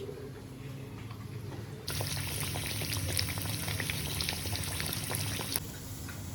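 A chicken burger patty fries in hot oil, a soft bubbling that jumps to a louder, continuous sizzle partway through, with crackling pops and no talking.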